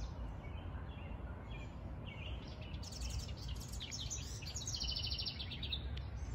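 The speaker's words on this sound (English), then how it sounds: "Are you aware of the birds?" Birds singing outdoors, with thin high chirps and trills rising over a steady low background hum, more active and layered in the second half, fairly faint and distant.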